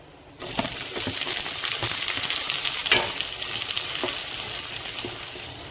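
Mustard seeds, urad dal, dried chilli and onion hit hot oil in a pan, bursting into a loud, even sizzle with scattered sharp pops and crackles that carries on to the end.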